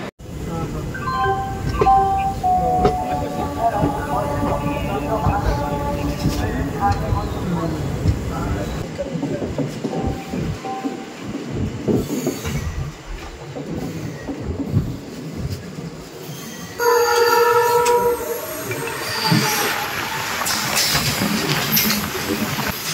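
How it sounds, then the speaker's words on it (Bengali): A long passenger train on an Indian rail route rolls past a stationary waiting train, rumbling and clattering steadily with a sharper squeal and tonal horn-like notes toward the end, while people talk nearby throughout. "এই দেখো, গাড়ি আগে বেরিয়ে যাচ্ছে, আর এই আমাদের গাড়ি দাঁড়িয়ে আছে।"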